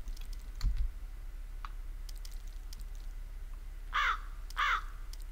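Crows cawing in the video game Jagged Alliance 2, two harsh caws near the end after a few scattered clicks and a soft thump, heard over a quiet ambient background.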